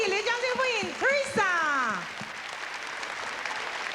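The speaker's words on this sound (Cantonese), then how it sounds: "熱烈掌聲歡迎" An audience at the 1992 Miss Asia Pageant final in Hong Kong breaks into applause to welcome a singer on stage. A voice is heard first, then a crowd of hands claps steadily in a broad, even wash.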